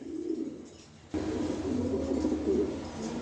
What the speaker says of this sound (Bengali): মাশাল্লাহ দর্শক দেখেন এখানে এক পেয়ার ব্লুবার কবুতর দিলাম